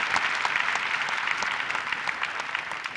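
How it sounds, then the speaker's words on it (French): Audience at a live comedy show clapping steadily, a full even wash of applause from the room, moderately loud and sustained with no voices over it. "je voudrais qu'on applaudisse très très fort pour elle"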